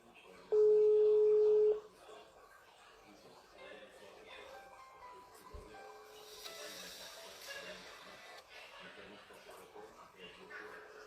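A telephone ringback tone plays while someone places a call, a steady beep sounding once near the start and followed by quiet line hiss and faint background noise.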